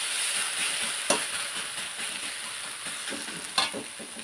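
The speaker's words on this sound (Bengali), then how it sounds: "ভালো করে ভাজবো, ভালো করে না ভাজলে না আদা রসুনের গন্ধ বলবে কাঁচা কাঁচা।" Ginger garlic paste frying in a pan for a chicken dish, a dense close sizzle with two sharp clacks of a spatula against the pan.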